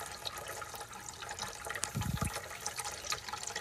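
Water trickles and flows through a sand stream table model, a soft steady watery wash with a brief louder gurgle near the middle, quiet and close with no talking.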